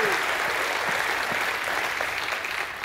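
A congregation claps in praise during a church service, many hands producing a continuous loud wall of applause that holds steady and tapers slightly at the end.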